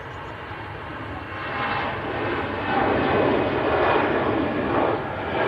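An EasyJet airliner at Manchester Airport makes a loud, steady engine rumble and roar that gradually rises and holds, close and without talk.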